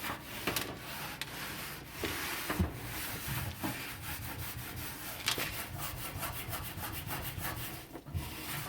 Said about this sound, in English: I'll just again wipe down some of these spots.